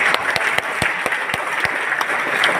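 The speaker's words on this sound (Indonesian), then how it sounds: "kalau mau tepuk tangan jangan ragu-ragu" Steady, close applause from a group, with a few sharper individual claps standing out through the continuous patter.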